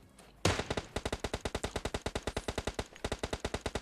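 Rapid automatic gunfire from the battle royale game PUBG Mobile, a sudden burst followed by a steady string of sharp, evenly spaced shots running for several seconds, close and loud with no talk over it.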